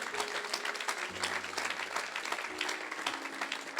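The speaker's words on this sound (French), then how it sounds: "Si tu veux acclamer le Seigneur, acclame le Seigneur." A church congregation applauding the Lord, a sustained wash of clapping from many hands filling the hall at a steady level, with a sustained tone running beneath.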